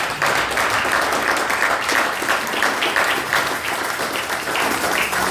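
A church congregation applauds in praise during a sermon, a dense burst of clapping from many hands that holds loud and steady throughout.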